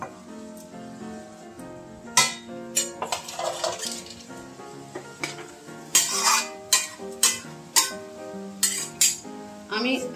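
A utensil stirs bitter gourd in a pan for Bengali shukto, sharp clinks and scrapes of metal on the pan repeating over a soft sizzle, close and clear, no voices.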